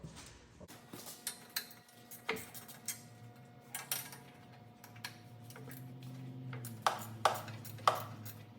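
Ratchet or wrench work on turbo manifold bolts of a Bobcat T190 skid steer gives sharp metallic ticks and pings at irregular intervals, with a low engine-bay hum in the background.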